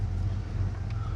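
A car engine idles roughly after its battery has been reconnected, a low uneven rumble close by with a wavering pulse, heard alone without talk.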